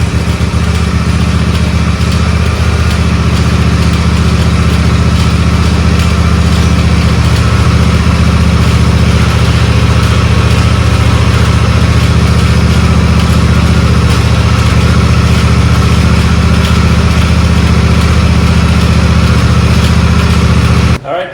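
A Simplicity lawn mower engine runs with the brake off, a loud, steady idling drone that holds unbroken for about twenty seconds before cutting out abruptly at the end.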